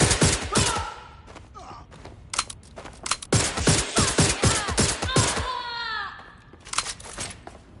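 Rapid bursts of automatic gunfire and sharp shots from the video game Watch Dogs Legion, loud and close, rattling in clusters with grunts and shouted voices between the volleys.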